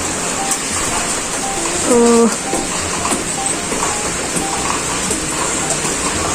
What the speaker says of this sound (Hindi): अभी बारिश है